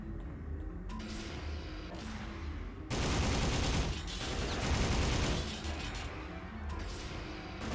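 Soldier of Fortune gunfire comes as bursts of rapid automatic shots. A dense volley of several seconds in the middle is followed by scattered shorter bursts, all mixed with crashing impacts and at moderate volume.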